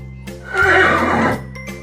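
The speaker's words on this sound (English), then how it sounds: "Horse." A horse neighs once, a loud close whinny rising and wavering for about a second, with faint background hum and a light click before and after.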